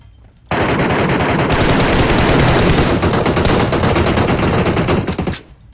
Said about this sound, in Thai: เสียงปืนทางขวานะครับ อยู่ไกลๆเลย